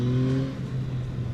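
The engine of a Yamaha MT-09 motorcycle holds a steady, throaty drone with a clear low hum, dipping slightly in the middle and then carrying on, loud and close, with no voices over it.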